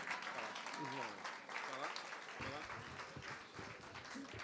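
Audience applause at a music awards ceremony, a steady wash of clapping from a crowd that continues throughout, with someone speaking over it at the start.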